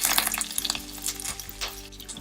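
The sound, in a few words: frying dried red chilies, urad dal, chana dal, curry leaves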